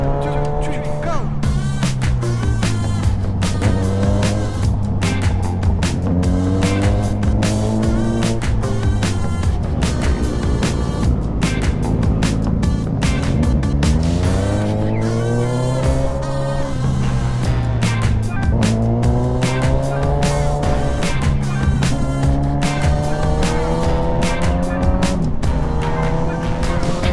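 A Suzuki GSX-S1000 motorcycle accelerates along a national highway, its loud, close engine note climbing and dropping repeatedly through gear changes, with the revs sustained over the whole stretch.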